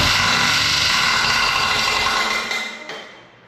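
The engine of an antique tractor roars loud and close in a steady run, then drops off and fades out near the end.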